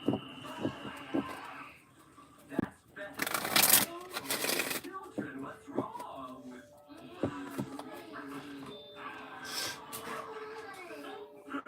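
Tarot cards are shuffled in rapid riffling bursts, crisp and close, repeated several times between quieter handling clicks while someone talks.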